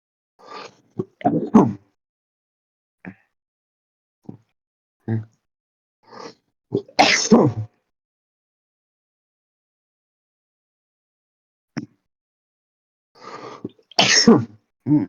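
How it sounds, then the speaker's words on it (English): Several sharp coughs in short bursts, close and loud, separated by long silences with a few small throat noises, from a player during a Malifaux tabletop game match. "I'll have to cough for a bit."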